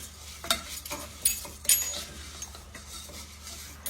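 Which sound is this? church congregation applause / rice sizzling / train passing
rice sizzling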